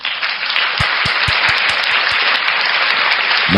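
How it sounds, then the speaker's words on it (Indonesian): A church congregation applauds together, a steady wash of clapping that fills the whole stretch at a moderately loud level with no talk over it. "Ya, tepuk tangan buat Yohanes."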